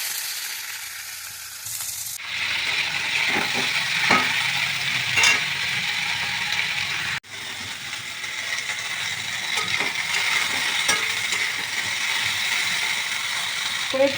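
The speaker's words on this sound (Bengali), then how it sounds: "প্রথমে একটু আলু আর ঢ্যাঁড়স ভেজে নেব।" Potatoes and okra fry in a pan with a steady hiss and sizzle. Repeated scraping and clattering strokes mark the stirring, close up, with no voices.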